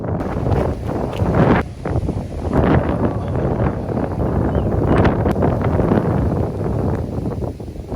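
Strong wind roars and buffets the microphone in continuous gusts at a campsite in Dolores, Quezon, loud and rumbling, with a faint rustle underneath.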